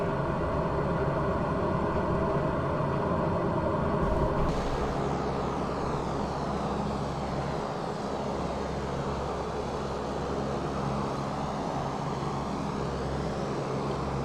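A C-130 aircraft engine in Microsoft Flight Simulator 2020, flying over Alaska, drones steadily and loudly throughout, its tone shifting and easing slightly after the first few seconds, then continuing as a constant roar.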